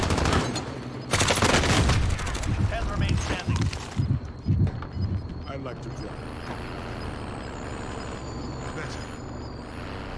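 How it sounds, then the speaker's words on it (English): Gunfire and rocket blasts aimed at the player in the Warzone battle royale game: loud dense bursts of shots and booms in the first four seconds, then quieter sporadic shots and a vehicle-like rumble, with talk over it. "He's shooting rockets at me."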